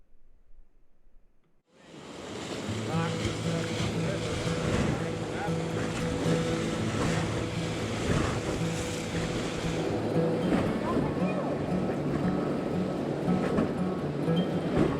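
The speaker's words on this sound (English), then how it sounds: "This is the rapids." Rushing river rapids on the Main Salmon River in the Idaho wilderness, a loud continuous roar of churning white water that starts abruptly after a quiet moment and holds steady throughout, with a low droning hum beneath it.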